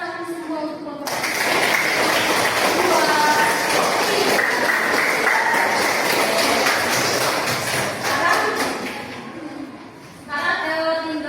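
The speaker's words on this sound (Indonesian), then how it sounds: "tepuk tangan semua untuk kelompok 2." A classroom applauds a student group with steady, dense clapping that is close and loud and lasts most of the span, then fades out as voices return.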